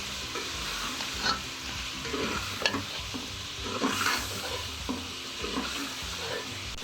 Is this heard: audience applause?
no